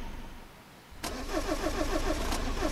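A Toyota Corolla 2019 in Euro Truck Simulator 2 starts up with a sudden crank, then settles into a steady, fairly loud mid-pitched engine hum that continues alone to the end.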